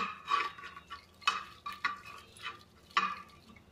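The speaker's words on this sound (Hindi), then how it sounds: "अब हम इसे एक दाल घोटनी से हल्का सा दाल को घोट लेंगे।" Cooked chana dal mashed with a wooden dal masher in a pot after pressure cooking, a series of separate wet squelching and clinking strokes at an irregular pace, close and fairly quiet.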